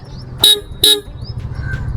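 Two short, loud horn chirps from a Hyundai i20 hatchback as it is unlocked by remote, evenly spaced about half a second apart, followed by quiet background.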